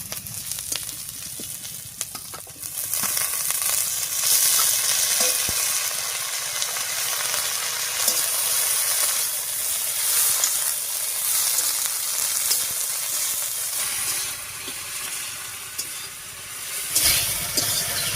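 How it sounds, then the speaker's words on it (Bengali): Onion and green chilli sizzle in a hot pan as greens are added, a continuous crackling fry with occasional stirring scrapes, steady and close throughout. "পেঁয়াজ আর কাঁচা লঙ্কাটা দিয়ে একটু ভাজা ভাজা মতো করে নিয়েছি। এবার শাকটা দেব।"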